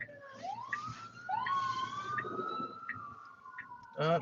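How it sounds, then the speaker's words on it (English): A wailing emergency siren rises and sweeps in long tones, moderately distant, followed by a brief louder burst at the end. "It knows when it hears a siren"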